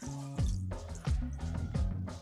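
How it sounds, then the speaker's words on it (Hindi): Water poured into a cooking pot while preparing white sauce pasta, a steady moderately loud rush that rises in pitch in repeated swells as the vessel fills. "अब इसमें पानी ऐड करूँगी।"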